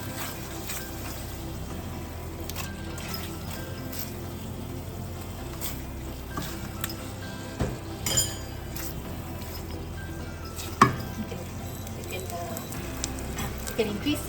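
Prawns fry in a pot with a steady close sizzle. Occasional clinks of a utensil against the pot sound over the frying.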